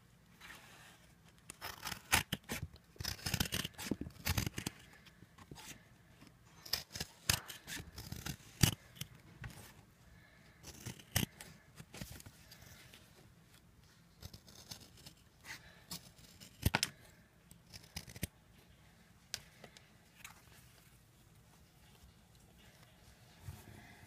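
Scissors snip repeatedly through glue-covered yarn while a 3D yarn decoration is being made, giving crisp, close cuts in irregular bursts with short pauses and no talking.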